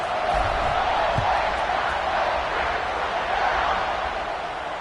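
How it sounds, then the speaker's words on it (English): A football stadium crowd buzzes after a touchdown, a dense, steady roar of many voices that fills the whole stretch at an even, loud level. "this crowd is buzzing after that last score"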